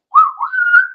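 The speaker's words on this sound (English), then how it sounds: "Oh yeah, the glorious whistle" A Titanic ship whistle gives one short, loud blast that slides upward in pitch and then holds for about a second, sounding clearly with nothing else heard.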